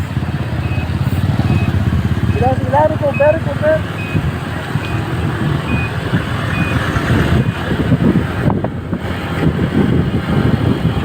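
Road traffic with motorcycles, trucks and other vehicles: a steady roar of engines and rumble throughout, with faint repeated beeps and chirps early on and a person speaking briefly over it.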